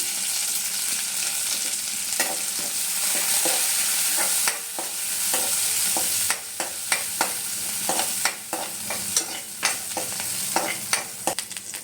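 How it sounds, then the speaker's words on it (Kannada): Green chilli, ginger, garlic and curry leaves stir-fry in a hot pan for fried rice, a steady loud sizzle broken by sharp scraping clicks of a spatula that grow more frequent toward the end. "ಹಸಿಮೆಣ್ಸಿನ್ಕಾಯಿ ಶುಂಠಿ ಬೆಳ್ಳುಳ್ಳಿ ಪೀಸ್ ಮಾಡಿದ್ದೀನಿ ಹಾಗೆ ಕರ್ಬೇವಿನ ಸೊಪ್ಪು ಇದಿಷ್ಟು ಹಾಕ್ಕೊಂಡು ಫ್ರೈ ಮಾಡ್ಕೋಬೇಕು"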